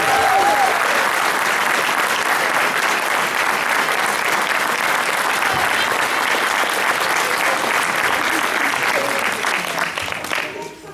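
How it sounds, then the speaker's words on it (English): Sustained audience applause for child performers at a rock and roll show, a dense, steady wash of clapping that fades toward the end. "please give me one more round of applause for all their hard work"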